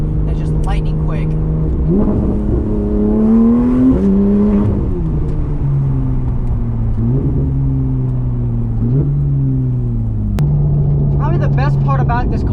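A 2015 Porsche 911 GT3's 3.8-liter flat-six engine drones and rises through gears with quick, smooth seven-speed PDK upshifts while driving, under a person talking at the start and end.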